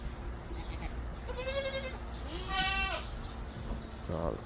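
Goats bleat on a farm, several wavering calls at moderate distance, one near the middle and another short burst near the end, over a busy background of low rumble.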